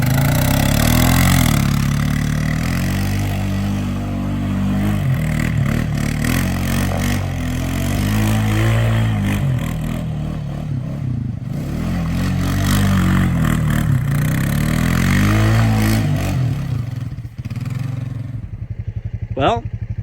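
A Yamaha Warrior 350 quad engine running with a worn-out clutch, a loud close rumbling idle with uneven revving and rattly clatter, ending as it shuts off; someone talks over it at points.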